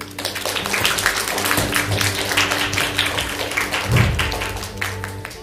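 A concert audience claps in a steady, moderate spatter of applause that runs throughout, with a tonal hum beneath and a brief louder swell near the end.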